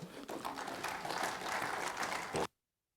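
Applause rises from the audience at an East African public procurement forum, a steady wash of clapping that holds evenly, then cuts off abruptly into silence.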